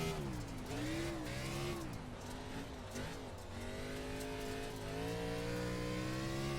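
A race car engine on the Bristol dirt half-mile in iRacing, a pavement-style car topping 100 mph on the straight, its steady high-revving whine rising and dipping with gear and throttle changes, loud and continuous, fairly close.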